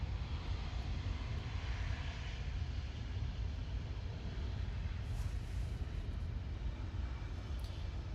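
Lufthansa Airbus A380 airliner on approach to land in Los Angeles: a steady broadband engine roar, distant and even throughout, with no clear rise or fall.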